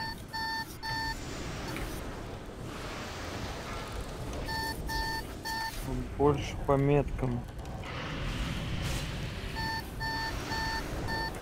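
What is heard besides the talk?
heart pulse monitor beeping in a video game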